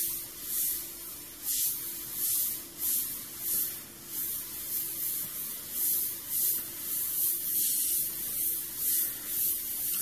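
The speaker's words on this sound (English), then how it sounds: "I'm going to switch back to the airbrush for a second" An airbrush sprays paint for a monotone portrait in a steady soft hiss that pulses in short bursts as the trigger is worked, close and quiet with no talking.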